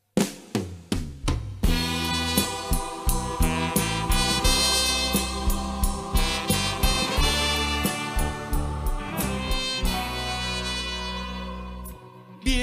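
A live band plays a mix of their songs in a live session, with a steady driving rhythm, rich sustained instruments and punchy percussive hits throughout, loud and without speech.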